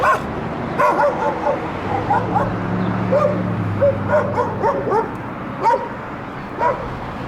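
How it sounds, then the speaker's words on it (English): Three dogs bark repeatedly behind fences in a rough Phoenix neighborhood backyard, sharp yips and bow-wows coming in irregular bursts at moderate distance over steady street and wind noise. "Another 3 dogs here."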